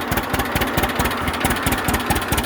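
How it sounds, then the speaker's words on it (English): A 1937 unstyled John Deere A tractor idles up close, its two-cylinder engine putting out a loud, steady, lopsided chuff-chuff beat with no talking. "these are pretty cool little tractors"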